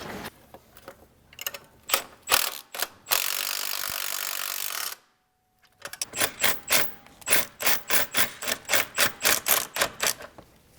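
A ratchet tightens a tie rod nut on a BMW, clicking in quick rhythmic bursts, with a longer rasping stretch and a brief silence before a final run of evenly spaced strokes, close and loud.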